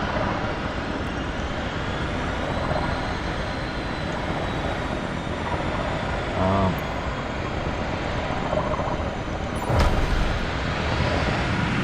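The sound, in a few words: aircraft taking off in Microsoft Flight Simulator 2025 video game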